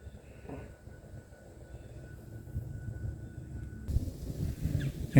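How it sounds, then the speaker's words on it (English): A model railway train runs along layout track at a hobby gas station and railway depot scene, a soft rumbling approach that grows gradually louder and nearer. "And here comes the train now."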